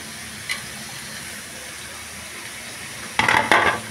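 Sautéing capsicum with carrot in a hot pan for chicken spring rolls: a steady sizzle throughout, then a short bout of louder stirring and scraping near the end, with no talking.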